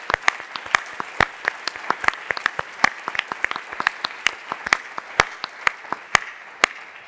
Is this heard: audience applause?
yes